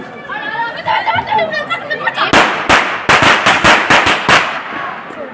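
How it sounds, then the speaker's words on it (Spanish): Firecrackers thrown at the Fallas street festival in Torrent, Valencia, burst in a rapid string of sharp, loud bangs, following a stretch of crowd chatter and voices that continue underneath. "¿Quién ha tirado un petardo por mi encima?"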